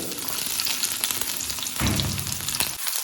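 Sliced shallots sizzle steadily in hot oil after mustard seeds have popped, a close, dense crackle that runs throughout without any voices.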